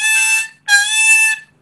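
Harmonica playing a whole bend on the 6 hole in a bluesy style, two sustained reedy notes separated by a short gap, close and clear with no talking.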